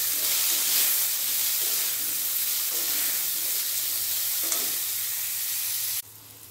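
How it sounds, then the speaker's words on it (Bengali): Moringa drumsticks and potatoes fry in hot oil with a steady, bright sizzle and faint stirring scrapes. The sizzling cuts off abruptly near the end. "সজনে ডাঁটা আলুও ভেজে নিয়েছি"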